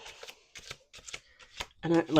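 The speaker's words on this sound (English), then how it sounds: "Last shuffle." A deck of cards is shuffled in quick bursts of crisp riffling, close by, with a short pause between each burst and a voice briefly speaking at the end.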